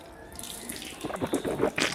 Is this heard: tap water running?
yes